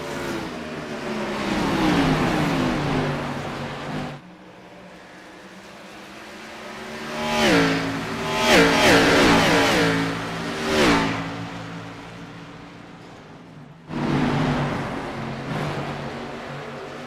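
NASCAR Xfinity Series race cars lap Iowa Speedway in a racing video game. Engines roar and rev loudly throughout, several pass in close succession in the middle with rising and falling pitch, and no one talks.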